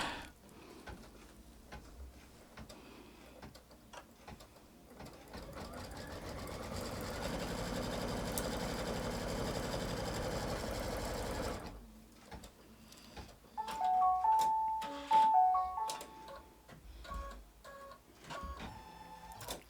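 An embroidery sewing machine stitches fabric held in a hoop, a steady mechanical whirring with rapid ticking needle strokes that runs alone for several seconds, stops briefly, then resumes with sharper clicks and short tonal beeps.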